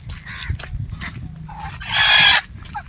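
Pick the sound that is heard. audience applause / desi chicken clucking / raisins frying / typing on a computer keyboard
desi chicken clucking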